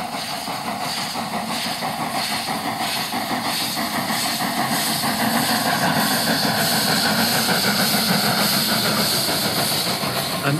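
Eastern European steam locomotive working, its steady hiss and rhythmic chuffing rolling along continuously at a fairly loud, close level, building slightly midway.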